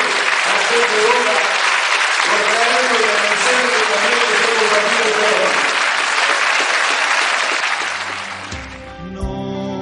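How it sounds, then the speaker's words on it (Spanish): A crowd at a gathering of the Peña de Boca fan club in Dolores, Buenos Aires, applauds loudly and steadily for about eight seconds, with a voice carrying over the clapping before it fades and music begins. "¡Fuerte el aplauso y felicitaciones a la Peña de Boca!"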